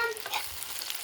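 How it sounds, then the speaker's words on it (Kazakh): Chopped boiled lung fries in a pan, a steady close sizzle with crackling spatter and light stirring, no voices. "осында өкпелеріміз осылай турап алып, осыны қуырамыз"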